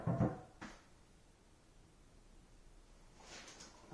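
A cheap builder-grade bathroom vanity cabinet door swings open and shut, a quick double knock of wood and hinge at the start, followed by a quiet room and a softer bump near the end.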